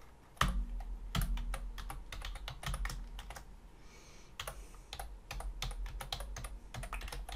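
Typing an email address on a computer keyboard: close, quick clusters of crisp key clicks with short pauses between bursts, heard alone without speech.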